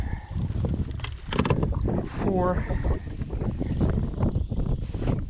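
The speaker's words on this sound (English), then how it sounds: "This wind is crazy." Strong wind blows across Lake Hodges, roaring into the microphone as a constant buffeting rumble near a small boat on the water. A voice comes through briefly over the gusts.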